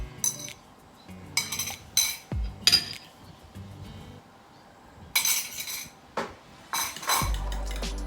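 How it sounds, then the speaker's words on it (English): A fork clinks and scrapes against a dish in quick bursts while beaten eggs are stirred into sauce for a Thai seafood curry, close and sharp with pauses between rounds of mixing. "Now I'm gonna mix with the sauce."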